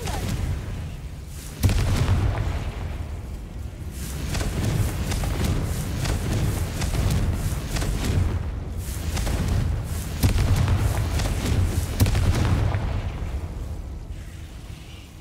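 Confringo fire spell explosions in the Hogwarts Legacy video game, heard as repeated booming blasts and bursts over a rumbling background, loud and close across the clip.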